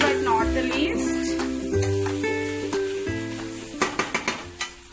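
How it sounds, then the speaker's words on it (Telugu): Egg fried rice is stirred and tossed in a hot pan with a steady sizzle and scraping. A run of sharp metallic clinks from the spatula striking the pan comes near the end. "సో దీన్ని బాగా మొత్తం మిక్స్ అయ్యేలా కలిపేసుకుందాం."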